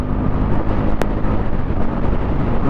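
A Bajaj Pulsar NS400Z motorcycle with a 400cc Dominar-derived engine runs steadily while riding, giving a low, continuous engine drone mixed with heavy wind rush.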